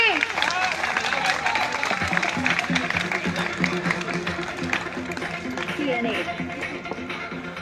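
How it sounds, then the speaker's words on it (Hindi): Dense clapping rises from a crowd at a Kota Kranti March rally as a guest is garlanded, mixed under loud music and a speaking voice for the whole stretch. "प्लीज तालियां बजनी चाहिए।"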